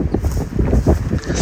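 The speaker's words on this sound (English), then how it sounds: "As you can see, very windy today" Strong gusting wind buffets the microphone at a horse ranch, a loud, steady low roar that swells and eases over a second and a half, with no voices.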